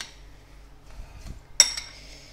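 A spoon stirs sugar into cold milk in a bowl, with soft scraping that builds into a sharp clink of metal against the bowl, near and fairly quiet.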